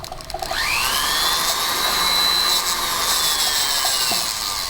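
A small drill bores through a pearl kept wet with water, giving a steady high whine that holds evenly for several seconds after a short start.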